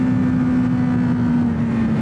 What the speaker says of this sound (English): banging through the gears, letting the engine really kind of sing on me